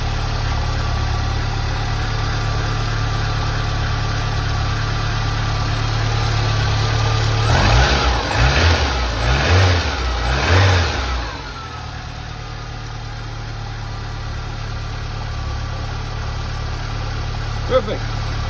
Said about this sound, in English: I'll start it up for you guys and you can see she idles like a top